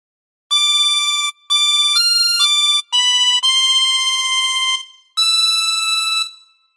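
A 24-hole tremolo harmonica plays a phrase of Silent Night as a clear, reedy sequence of about six sustained notes with short breaths between them, solo and close.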